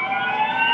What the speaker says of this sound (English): Sirens stopped the country for a moment of silence